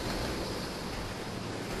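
Steady, loud wind roaring without pause across an exposed high place in the video game Resident Evil 0, a broad rushing wash like surf with no voices over it.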